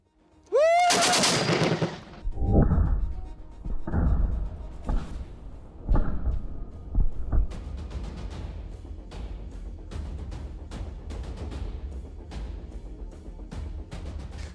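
A KPVT 14.5mm heavy machine gun fires in a video game against an armoured vehicle, one loud close shot with a metallic ring, then heavy booms and impact clanks, followed by a run of rapid rattling hits that fades.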